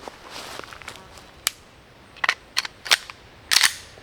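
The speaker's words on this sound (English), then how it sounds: "let's go ahead and see what it looks like to get one of these in the gun" A plastic training round is loaded into a gun: a run of sharp mechanical clicks and snaps, some quiet and some louder, spaced irregularly over a few seconds with no talking.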